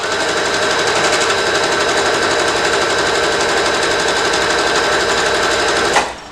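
A sewing machine runs a straight gathering line through romper fabric, a loud, even, rapid mechanical whir held steadily for about six seconds before stopping abruptly.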